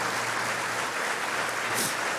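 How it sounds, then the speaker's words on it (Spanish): A church congregation applauds, a continuous, even roar of many hands clapping heard from a distance, with no break. "Denle un aplauso fuerte al Señor"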